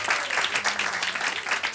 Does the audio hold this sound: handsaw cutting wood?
no